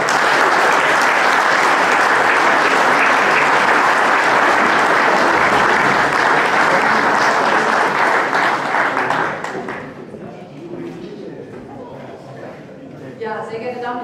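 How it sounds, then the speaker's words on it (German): A crowd at a political campaign kickoff in Berlin Spandau gives a teacher sustained, loud applause for about nine seconds, then it fades out and a speaker begins addressing the audience. "jetzt einen Applaus für unsere erfolgreiche Lehrerin"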